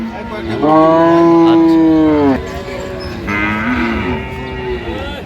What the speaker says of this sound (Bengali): সুন্দর গাভী বাচ্চা